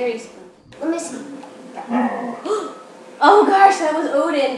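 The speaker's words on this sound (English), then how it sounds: "That was our dog." A pet dog barks and yips in short bursts at home, close and fairly loud, mixed in with excited talk from people nearby.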